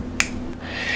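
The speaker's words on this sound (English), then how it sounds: "Once it clicks, you're at 105 inch-pounds." A single sharp click from a torque wrench reaching its 105 inch-pound setting on a camshaft bolt during a Crower Stage 1 cam install on a Neon SRT-4 engine, heard once near the start against a quiet workshop hum.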